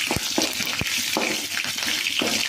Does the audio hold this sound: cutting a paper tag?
no